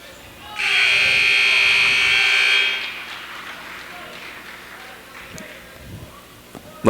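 A period-end buzzer at a high school wrestling match, one loud, harsh, steady electronic blast lasting about two seconds, followed by gym crowd noise and faint commentary underneath.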